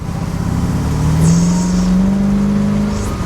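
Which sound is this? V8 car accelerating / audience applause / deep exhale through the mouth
V8 car accelerating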